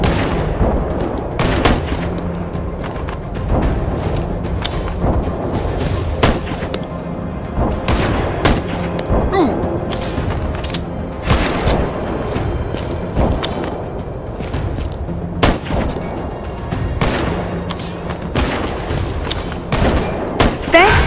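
Snipers on a bridge fire in the video game M.A.R.S., giving loud, close, irregular gunshots that crack repeatedly over a sustained battle din, with some speech mixed in.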